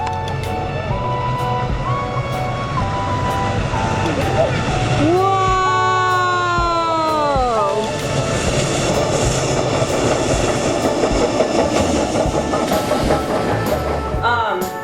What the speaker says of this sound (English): It's the world's largest working steam locomotive.